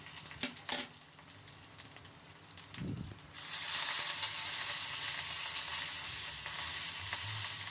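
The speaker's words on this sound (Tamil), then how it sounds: "ஒரு பச்சை மிளகாய், கருவேப்பிலை, தாளிச்சிட்டு" Green chili and curry leaves, with mustard seeds and urad dal, hit hot oil for a tempering: a few soft metallic clinks, then a sudden, steady, close sizzle that carries on to the end, with no voices.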